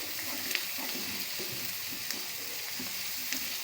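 Onions frying in a pan for desi tinda curry, giving a steady, close hiss and sizzle with a few faint crackles and stirring clinks, no voices over it.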